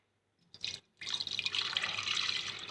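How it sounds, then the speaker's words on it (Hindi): Water poured into a jug indoors for a summer drink, a short splash and then a steady close trickling stream. "उसके बाद आपने इसमें डालना है पानी"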